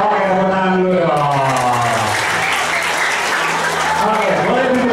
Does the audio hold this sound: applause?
yes